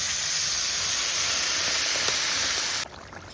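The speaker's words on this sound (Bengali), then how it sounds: "এবার জল দিয়ে দিচ্ছি" Water hits a hot pan of cauliflower and fish curry with a loud, steady steaming hiss that holds for almost three seconds, then cuts off abruptly to near quiet.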